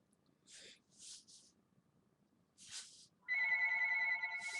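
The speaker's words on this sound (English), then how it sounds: "Oh, phone's ringing." An indoor telephone rings with a steady, bright electronic tone near the end, after a few soft, short rustling noises in a quiet room.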